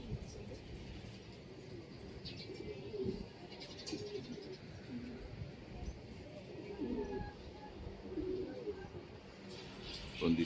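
Soft racing pigeon coos repeat here and there in a pigeon loft over a busy, rustling background, with faint voices and shuffling nearby.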